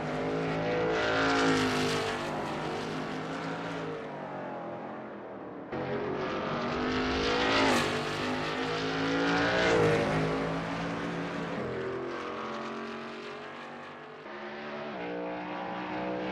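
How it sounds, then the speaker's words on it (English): A Shelby Mustang GT350R race car, as rendered in a racing video game at Sebring, roars steadily and close with continuous engine drone and rising and falling revs through a bend, no voices over it. "That ASRL Shelby Mustang GT350R looks good driving through Bishop Bend."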